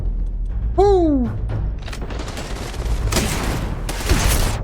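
Gunfire in the sci-fi video game Starfield, a sharp whistling sweep followed by bursts of loud, close shots and blasts with rumbling booms between them.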